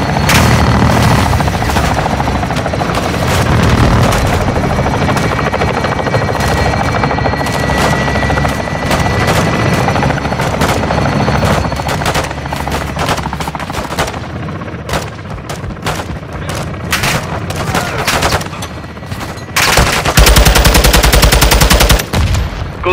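In the PS5 game Call of Duty Modern Warfare II, a helicopter's loud, steady rotor roar runs underneath rapid bursts of machine-gun fire and heavier booming shots, dense and close throughout.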